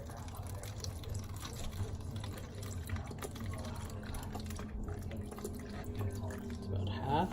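Alcohol is poured into a lab cup until it is half full, a steady close trickle and splash of liquid that runs continuously for several seconds.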